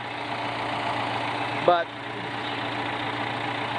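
An old tractor, owned for 36 years, idles steadily with a low engine drone throughout, interrupted once by a brief louder rattle midway; a voice speaks a single word.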